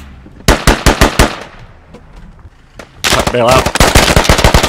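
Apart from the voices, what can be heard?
gunfire from the video game Squad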